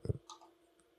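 A single sharp mouse click on a software installer's Next button during a Peercoin wallet update on Windows, close and brief, followed by faint desk noise.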